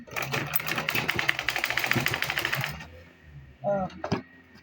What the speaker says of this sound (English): So I'll now do it like this and top stitch it.